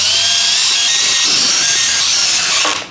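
A power drill driving screws to fasten stabilizers onto the side of a ramp for holding a motorcycle tire, a loud, close, steady whine held for nearly three seconds before winding down.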